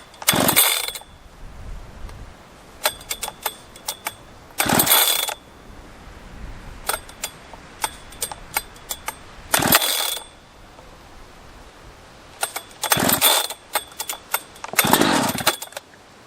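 Husqvarna chainsaw being pull-started with the choke on: several hard, rasping cord yanks in separate bursts with pauses between, each a short loud ratcheting rip that never catches into a running engine.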